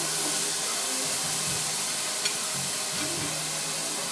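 A ground turkey burger patty sizzles steadily in a skillet, a continuous bright frying hiss with faint thuds from the patty being pressed and spread.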